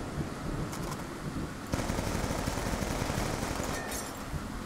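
Machine gun hip fire in Black Ops 2 on a stormy map, a sustained, loud stream of rapid automatic shots with sharper accents, set against a roaring wind-like background.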